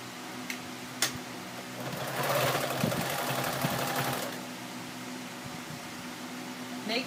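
A sewing machine stitching a denim apron made from old jeans runs in a close, steady mechanical whir, swelling briefly in the middle before easing back to a lighter hum.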